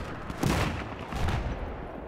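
Mortar and XM25 grenade launcher fire in a large 32 versus 32 online shooter match, a couple of muffled distant blasts rumbling over a dense, noisy battlefield background.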